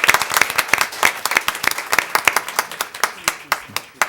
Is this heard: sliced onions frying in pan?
no